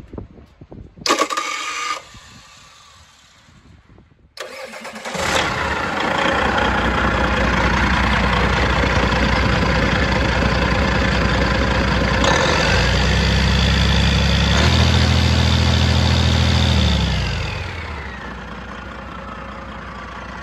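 A Detroit Series 60 12.7-litre DDEC-4 non-EGR diesel engine on a test stand cranks, catches and settles into a loud steady idle, then runs down near the end, heard close with no talk.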